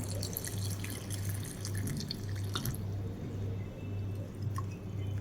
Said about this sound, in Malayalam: ഇനി നമുക്ക് ഇതിലേക്ക് ആവശ്യമുള്ള വെള്ളം ഒഴിച്ചിട്ട് ഇതൊന്ന് ഉരുക്കി കൊണ്ടുവരാം